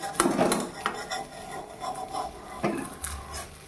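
A spatula scrapes and rasps against a pan, loosening the edges of a mango roti, in several short, fairly close strokes with brief pauses between them.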